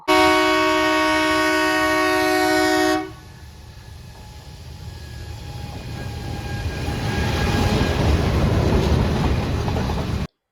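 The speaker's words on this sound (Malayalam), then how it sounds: "ഇതാണ് കൽക്കരി ട്രെയിൻ കൽക്കരി നിറയ്ക്കുന്നത്" A coal train at a loading point: a sustained, harmonic horn blast for about three seconds, then a broad, steady rumble of rolling wagons and machinery that slowly builds and stays loud.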